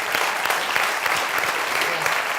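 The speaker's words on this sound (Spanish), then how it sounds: "Un aplauso fuerte para él." A conference audience applauds in a steady, loud, dense burst of clapping that carries on evenly throughout.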